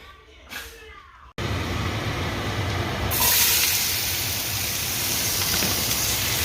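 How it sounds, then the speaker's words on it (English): Garlic, onions, jalapeno and kosher salt drop into hot oil in a pan and set off a loud, steady sizzle that holds without a break. "We're going to saute our garlic, onions, jalapeno, and some kosher salt."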